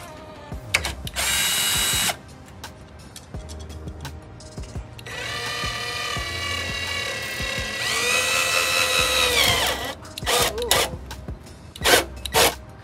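A power drill whirs in several bursts while drilling into a carbon fiber wing spoiler on a BMW E93 M3 convertible, one long grinding run in the middle, with short spins and rattling handling noises between them.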